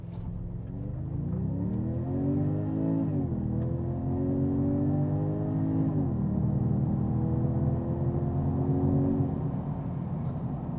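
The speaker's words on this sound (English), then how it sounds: "we're in Sports Plus and we're gonna test the 0 to 100 time in this car" A 2022 Genesis G70 Shooting Brake with a four-cylinder engine, in Sports Plus mode, accelerates hard from 0 to 100 km/h, its engine note climbing through rising revs with two clear upshifts, loud and steady inside the cabin.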